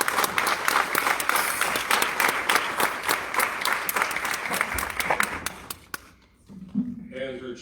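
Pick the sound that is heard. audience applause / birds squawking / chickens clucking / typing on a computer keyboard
audience applause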